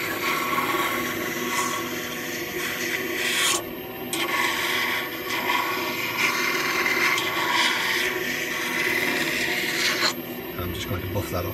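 Crystalline wax is rubbed by hand onto a wooden bud vase finished with Danish oil and polishes, making a close, continuous dry rubbing and rasping with brief pauses in the stroke.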